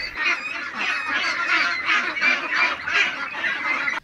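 Young ducks on a home duckling-rearing farm in Kota Batu give a dense, continuous chorus of high peeping and quacking calls, loud and steady throughout with no talk.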